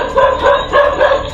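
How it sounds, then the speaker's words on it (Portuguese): A dog barks furiously in a rapid series of four or five loud, close barks, with no voices. "o cachorro de um homem começou a latir furiosamente para o nada"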